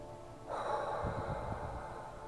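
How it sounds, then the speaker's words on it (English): A single deep breath drawn in and let out, a soft close airy rush lasting about two seconds, quiet and alone. "that's just taking a deep breath in"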